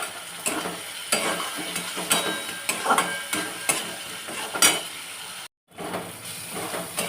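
Spices sizzle steadily in a pan while a utensil scrapes and stirs them in regular strokes, with a brief silent gap near the end before the frying resumes.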